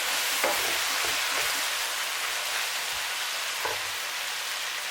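Tomatoes and spring onions frying in a pan for Cameroon born house beans, a constant dense sizzle with a few soft stirring knocks.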